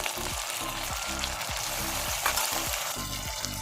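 Boiled chickpeas fry with ginger, garlic, green chilli and onion paste in a loud, steady, close sizzle, while a spatula stirs through the pan in a regular rhythm underneath.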